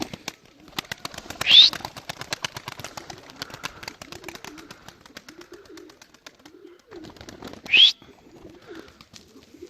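Pigeons coo softly in a loft among flying birds, with low murmuring calls throughout and two brief sharp louder calls standing out, plus scattered light clicks and rustles nearby.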